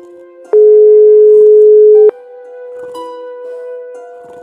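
A phone call goes unanswered in the video game Broken Sword: The Serpent's Curse, with a loud steady electronic ringback tone for about a second and a half, then quieter sustained synth tones continuing alone.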